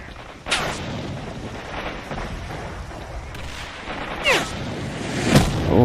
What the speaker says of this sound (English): somebody's firing RPGs at me too